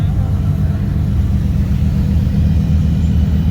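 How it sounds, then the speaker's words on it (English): A Ferrari sports car idles at an exotic car festival, its engine giving off a steady, loud low rumble throughout, with no clear revving. "What y'all think about this Ferrari right here?"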